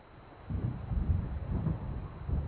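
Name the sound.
thunder of an approaching storm in the Alan Wake video game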